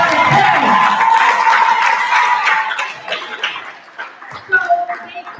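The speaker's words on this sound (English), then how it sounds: "Can we give her a round of applause?" Applause from a school class of middle-schoolers during an author's read-aloud, loud and crowded for the first seconds, then thinning into scattered claps and voices.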